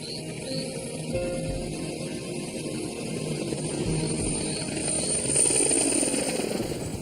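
A helicopter drones steadily at a distance over swamps, its rotor thrum and engine whine holding a constant, slightly swelling level throughout.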